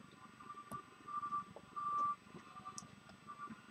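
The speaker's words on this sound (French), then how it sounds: "Ah, oui, c'est un camion qui recule." Truck reversing beeps heard faintly from a distance, a few steady electronic tones repeating over low background rumble and scattered clicks.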